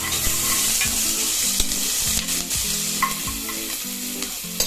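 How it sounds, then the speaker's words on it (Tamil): Onions sauté in oil with cinnamon, cardamom, cloves and star anise for veg biryani, a loud steady sizzle carrying a regular rhythm of stirring scrapes under the hiss. "பட்டை 2, ஏலக்காய் 2, கிராம்பு 3, அன்னாசி பூ 1, 2 வெங்காயம் போட்டு நல்லா வதக்கணும்"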